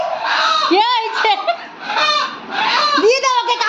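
A chicken clucks and squawks close by in loud, repeated bursts, the calls rising and falling in quick succession.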